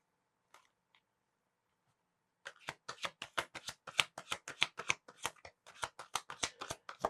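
A deck of tarot cards is riffled after a quiet start with a couple of soft taps, then a rapid run of crisp, close flicks that continues to the end.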